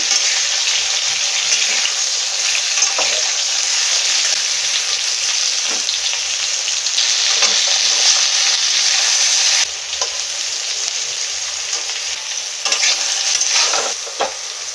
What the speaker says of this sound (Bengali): সেদ্ধ করা এঁচোড়গুলো ভেজে নেবো।